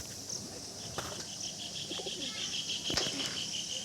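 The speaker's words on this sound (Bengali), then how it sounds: "এই দেখুন ছেড়ে দেওয়া হলো পায়রাটা" Wings flap in brief bursts nearby, over a steady outdoor hiss with a faint high chirping tone running throughout.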